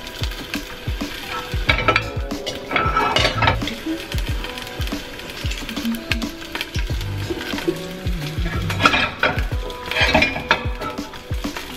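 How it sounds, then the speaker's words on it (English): Vegetables sautéing in a one-pot meal pan, with a steady sizzle broken by frequent clanks and scrapes of a utensil stirring against the pan, close and fairly loud, no talking. "Go ahead and add the veggies to that same pan, because remember, this is a one pot recipe, and give them a little saute also."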